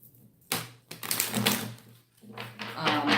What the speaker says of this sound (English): I'm going to shuffle 8 times